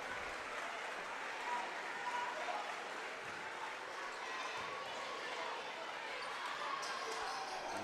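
A crowd of home fans in a high school gym applauds steadily for a senior basketball player leaving the game, the sustained clapping filling the space while a commentator speaks over it.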